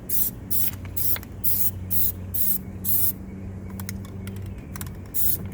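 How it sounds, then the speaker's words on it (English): Plasti Dip is sprayed from an aerosol can in a series of short, sharp hissing bursts, about eight in a row, close and fairly loud, with quiet gaps between them. "spray it once more time"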